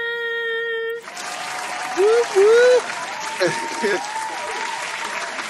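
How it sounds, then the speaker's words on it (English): Audience clapping at a township board meeting, a broad wash of applause that starts abruptly and carries on under a voice calling out and short whoops. "Let me get the claps for Megan with opinion"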